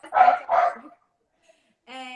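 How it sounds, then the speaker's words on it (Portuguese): A dog gives two sharp, loud barks in quick succession, close by, followed by a brief pause and a short whine-like yelp. "O cachorro estava latindo aí."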